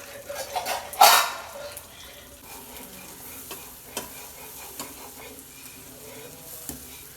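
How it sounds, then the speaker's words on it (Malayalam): Milk powder and cocoa mixture is stirred in a pot on the stove, a soft scraping of the spoon with one louder clatter early on and scattered light taps against the pan afterward. "കുറച്ച് കൊക്കോ പൗഡറും കൂടി ചേർത്ത് നല്ലോണം മിക്സാക്കി സ്റ്റൗ കത്തിച്ച് തിക്ക് ആൻഡ് ക്രീമി രൂപത്തിൽ ആക്കിയെടുക്കണം"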